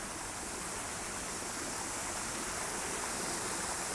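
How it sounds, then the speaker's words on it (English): Waterfalls pouring into a lake in a Japanese garden park, heard as a steady, dense roar of rushing water that fills the whole clip without a break. "then we get to the waterfalls, the feature. Not so peaceful. They're rushing down"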